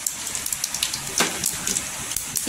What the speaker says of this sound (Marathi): जिरं छान असं तरतरलं पाहिजे आणि फोडणी छान अशी बसली पाहिजे खमंग